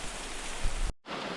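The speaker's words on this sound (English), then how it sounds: "as you can see, the rain is falling quite heavily" Heavy thunderstorm rain pours down in a dense, constant hiss, briefly cut off by a sudden drop to silence before the downpour resumes just as strongly.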